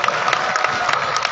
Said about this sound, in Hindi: भाई थावर चंद जी डामोर का एक बार जोरदार तालियों से स्वागत करें और अभिनंदन करें।